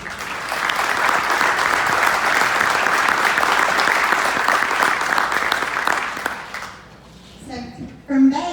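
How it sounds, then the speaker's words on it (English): A crowd gives a sustained round of applause at a company grand opening and ribbon cutting ceremony in Burke County, loud and even for several seconds before fading out as a person starts talking. "So let's give Hope a round of applause"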